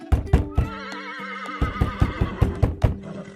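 A horse whinnies loudly and close, a long shaky neigh over steady clip-clop hoofbeats, with sharp hoof knocks continuing rhythmically afterward.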